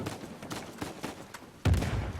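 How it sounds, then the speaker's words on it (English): Gunfire in a video game, a quick series of faint, sharp shots at irregular intervals, then a heavier thump near the end. "Gunshots, you can also hear that."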